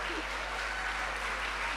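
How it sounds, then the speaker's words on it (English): An audience at an international graduate programs ceremony claps in a soft, even, continuous patter that sounds somewhat distant and low in level. "there you go, a clap of hands"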